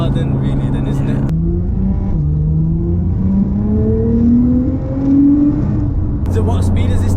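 A 700 hp Nissan GT-R with a six-speed gearbox accelerates hard, its engine note climbing steeply through the gears with brief breaks at each shift, heard loud from inside the cabin.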